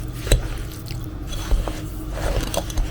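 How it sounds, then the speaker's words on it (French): A Danish dough whisk stirs semolina with milk in a bowl, producing soft wet scraping and squishing with periodic knocks against the bowl, close and fairly quiet. "C'est pour ça que le fouet danois, très important, il mélange sans malaxer."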